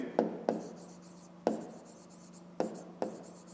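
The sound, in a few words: handwriting divisors on paper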